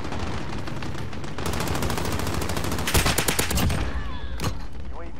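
Rapid automatic gunfire from a rifle in Modern Warfare, a steady stream of loud close shots that swells into a denser burst of cracks near the end, with game ambience underneath.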